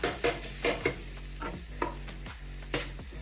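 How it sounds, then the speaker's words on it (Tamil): A dosa ladle chops kothu parotta on a hot pan in a Tamil hotel-style recipe, sounding as a series of sharp, uneven clanks over a soft continuous sizzle, with no one talking. "நம்ம தோசை கரண்டிலே வச்சு நல்லா இப்படி குத்தி விட்டுக்கலாம் கொஞ்ச நேரம்."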